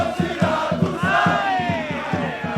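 Siracusa football fans celebrating promotion to the third tier, chanting in a steady rhythmic beat with loud crowd voices and whistles in unison.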